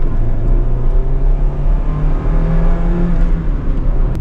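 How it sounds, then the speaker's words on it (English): A car with a Stage 2 clutch and lightweight flywheel accelerates through a gear, its engine note rising in a loud, continuous close-up drone. "we're gonna go ahead and do just a quick little acceleration, not a launch"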